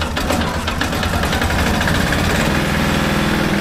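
Engine of a big Belle cement mixer running, a close, loud, steady low chugging drone with a rapid knocking pulse that holds evenly throughout, with no talk.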